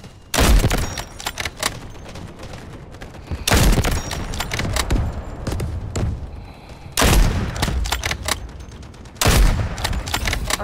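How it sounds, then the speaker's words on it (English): Repeated artillery barrage in the shooter Delta Force: four loud volleys of booming impacts and rapid blasts, each a few seconds long, separated by quieter rumbling gaps. "Artillery cover coming."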